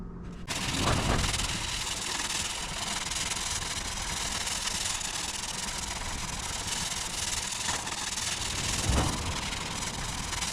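Continuous abrasive rubbing of sanding on a car body panel with 120-grit paper ahead of primer, a steady close, loud scratchy hiss lasting throughout with slight swells.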